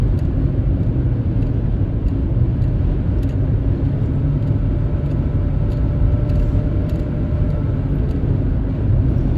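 A truck drives on an open road in a strong side wind, a steady loud low rumble of engine and road noise with wind buffeting throughout and no talk.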